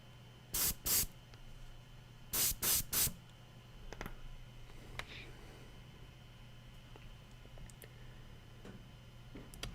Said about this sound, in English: My airbrush is a little spitty